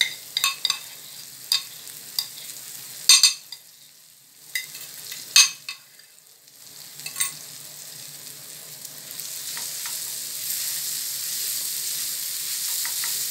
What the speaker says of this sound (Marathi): ह्याला व्यवस्थित असं मिक्स करून घ्यायचं.